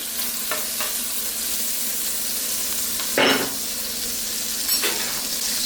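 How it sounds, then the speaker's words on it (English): Butter sizzles and fries in hot oil in a pan, a steady close crackle with a few brief louder spits and stirring scrapes, no talking. "Gonna add a little bit of butter to the oil that's already in here."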